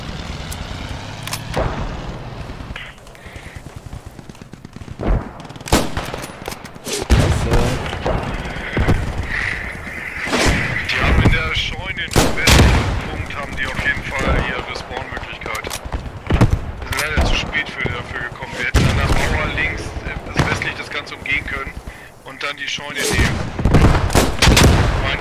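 Rapid bursts of gunfire in the video game Post Scriptum crack repeatedly over a dense, busy mix, with voices talking throughout.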